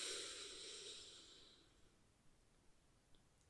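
A single deep breath drawn in close to the microphone, a soft airy rush lasting just over a second that fades into near silence with a few faint clicks, gentle ASMR-style.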